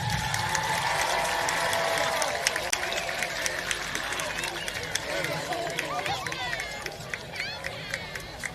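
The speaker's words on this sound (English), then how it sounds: "Let's give all of our homecoming court representatives a big round of applause." Crowd at a high school football homecoming applauds the homecoming court, steady clapping and cheering filling the stands with chatter mixed in, fairly loud and sustained throughout.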